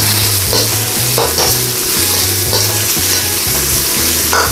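Sliced white onion sizzles and crackles loudly in a hot pan, a steady frying hiss broken by repeated stirring scrapes, with quiet background music underneath.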